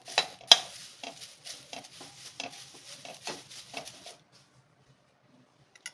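Dried curry leaves are stirred in a pan for homemade sambar powder, giving light scraping and tapping of a utensil against metal in an irregular rhythm, close by, that stops after about four seconds, followed by near silence.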